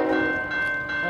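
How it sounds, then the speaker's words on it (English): A CN oil train with a single locomotive passes a crossing at North Duplainville, giving a steady loud rumble with a sustained horn tone carrying over it, close by. "Looks like an oil train to me."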